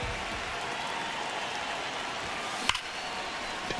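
Steady, dense crowd roar from a baseball stadium in the video game MLB The Show 26 during a tight ninth inning, with a sharp crack rising briefly above the continuous murmur.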